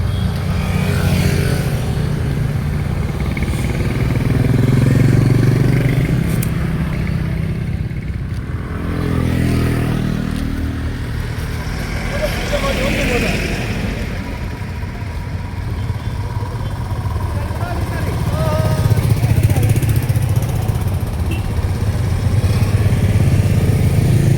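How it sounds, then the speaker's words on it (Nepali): Motorbikes in an Easter Sunday rally from Namthang to Krush Dara pass close by one after another, engines droning and revving in long overlapping swells with some clatter, loud throughout and with no talk. "अहिले चाहिँ बाइक मात्रै है छ र यसको पछि चाहिँ हाम्रो है गाडीहरू आउनेवाला छ।"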